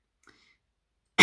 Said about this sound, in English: I coughed at that